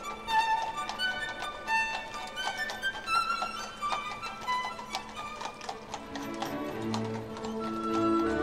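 Horse hooves clip-clop in a steady, uneven rhythm on a hard surface, accompanied by faint jingling and tack noises.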